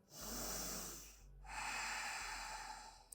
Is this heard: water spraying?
no